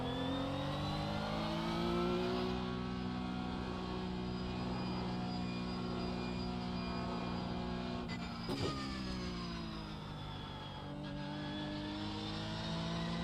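A Porsche Cup car engine in the iRacing sim drones steadily at high revs with strong layered harmonics, dipping and climbing briefly as it shifts, loud and continuous with no talking.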